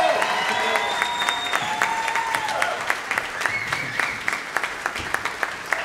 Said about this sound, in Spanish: Aplauso fuerte para nuestro equipo de cuerdas.